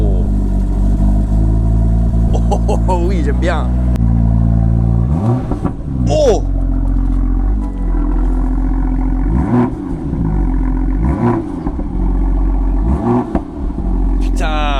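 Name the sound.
BMW M2 engine starting and revving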